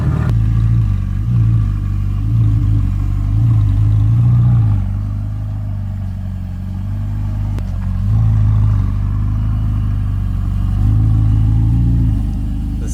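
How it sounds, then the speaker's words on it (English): A Ferrari 488 GTB with a twin-turbo V8 runs after a loud cold start, holding a deep, steady rumble close by with a few swells and dips in revs throughout. "But it's got a nice loud cold start."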